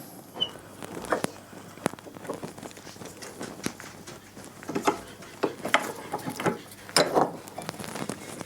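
A mountain bike rear shock is pressed into place by hand, giving scattered close clicks, taps and knocks of metal parts being handled, with quiet pauses between them.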